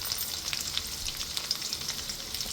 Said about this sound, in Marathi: हे सर्व परतून आता यामध्ये शेंगा परतून घेऊया